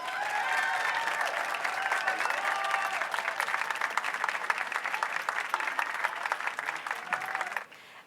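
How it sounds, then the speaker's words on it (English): Audience applause at the Hollywood Walk of Fame star ceremony honoring Jon Favreau, a steady, dense clapping from a large outdoor crowd that holds for about seven seconds and then thins out and stops. "Clap for him now."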